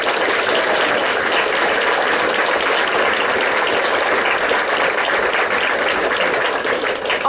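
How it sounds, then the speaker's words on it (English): A school audience gives sustained, dense applause for a sixth-grade class after a spring play, a loud unbroken roar of many hands clapping at once with no voices over it. "if I could get a round of applause for our 6th grade."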